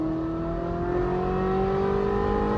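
A Ferrari 458 Spider engine on a slow street drive hums with a steady, close, even drone and a smooth rising tone, with no talk over it.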